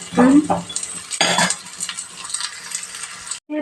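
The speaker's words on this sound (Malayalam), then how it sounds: "കുഞ്ഞു ചട്ടിയായതുകൊണ്ട് കുറച്ച് നേരം അങ്ങും ഇങ്ങും തെറ്റാതെ ഇളക്കിയെടുക്കണം" Close, rough scraping and stirring in a small clay pot while making papaya curry, a few quick strokes with a soft sizzle underneath, then a brief pause.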